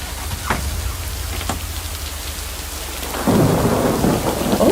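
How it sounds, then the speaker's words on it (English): A thunderstorm in the video game Lake, with low rumbling thunder under steady rain that suddenly grows heavier and louder partway through, a constant dense patter with no voices. "Oh, and there's the thunderstorm."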